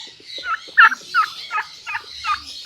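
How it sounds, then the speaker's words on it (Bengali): Turkey cocks weighing about four kilograms gobble in a series of rapid warbling calls, several bursts spaced roughly every half second, close and clear with no talking. "এগুলো হচ্ছে টার্কি মোরগ।"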